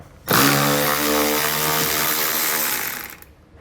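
A power tool spinning a 10mm socket to remove a bumper fascia fastener on a 2021 Subaru Ascent, one loud steady whirring burst of about three seconds, close up, starting and stopping abruptly.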